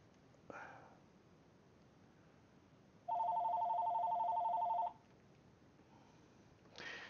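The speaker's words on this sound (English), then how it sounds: "Of course, I got a phone call here." A telephone rings with an incoming call in a room, one long steady electronic ring tone of about two seconds, cut short, with quiet background before and a brief voice afterward.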